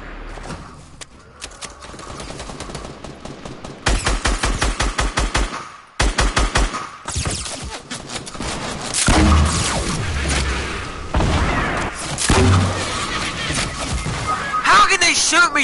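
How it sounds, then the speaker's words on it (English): Rapid automatic gunfire from enemies in a video game rattles in dense bursts and sustained volleys, loud and close, with booming impacts and thuds, and people talk over the shooting. "I'm getting shot at, but they're missing every single shot because they suck."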